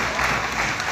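A crowd claps in a hall during a business plan presentation, forming a short, dense, steady wash of applause.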